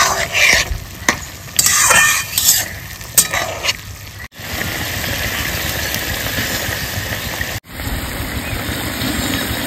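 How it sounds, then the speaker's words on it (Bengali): Fried singhi fish goes into a sizzling curry with thankuni leaves, stirred steadily so the hot oil crackles and hisses under scraping, clinking strokes of a utensil, loud and close. "এবার দিয়ে দেবো ভেজে রাখা মাছ,"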